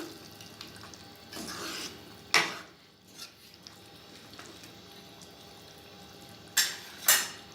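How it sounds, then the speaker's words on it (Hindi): A spoon stirs cooked anardana mutton salan in a pot: a few scraping strokes and sharp clinks against the metal, the loudest near the end, over a soft low background with no voices. "अब आप चला सकते हैं इसको। अब आप मिक्स करें।"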